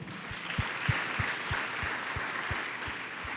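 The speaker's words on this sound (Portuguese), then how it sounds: "Vamos aplaudir o Senhor." A church congregation applauds the Lord, a broad wash of clapping over a steady rhythmic thump that beats evenly throughout.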